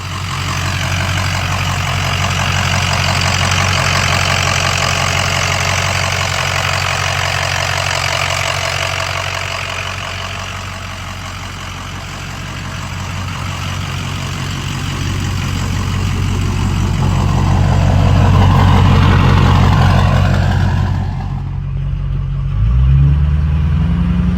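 A 6.0 Powerstroke diesel truck engine runs while driving, a loud deep rumble that swells and eases with throttle, then settles toward idle near the end.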